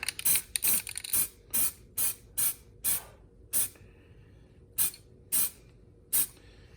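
Short bursts from a spray can coat a Warhammer Khorne Bloodthirster miniature, about a dozen quick, sharp hisses in an uneven rhythm separated by brief quiet gaps.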